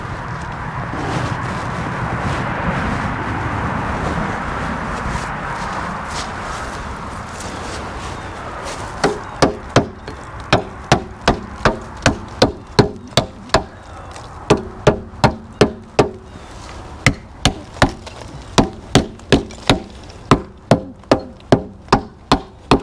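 A hammer strikes brick mortar joints to open up cracks during a repair, sharp metallic blows landing in uneven bursts after a stretch of rustling and scraping, close and loud.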